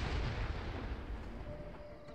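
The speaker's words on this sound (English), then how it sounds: "Explosions going off" Explosions in a multiplayer shooter game rumble with a deep, booming roar that starts strong and slowly decays into a low tail, with no voices present.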